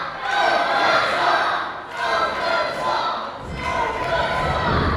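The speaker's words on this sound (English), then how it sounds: "The crowd are chanting for off the top." A live wrestling show crowd in Romford chants in unison, steady and loud throughout with rhythmic swells and brief dips, with thuds of ring action mixed in.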